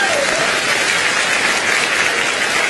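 Audience applause at a live Cantonese stand-up comedy show: dense, steady clapping from a crowd, loud and continuous for about three seconds with no pauses.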